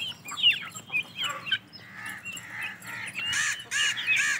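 Desi chickens and turkey chicks on a poultry farm, with a busy mix of clucks, squawks and high peeping calls that overlap and grow louder near the end, close by and without talking.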